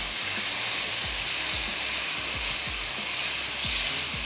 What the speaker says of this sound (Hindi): चलें थोड़ा सा सिर्फ इसको भून रहे हैं